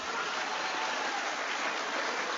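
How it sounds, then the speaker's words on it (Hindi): Steady, dense applause from a political rally audience in Malegaon, a continuous wash of clapping with no gaps, fairly loud throughout. "तालियां बजाकर स्वागत कीजिए"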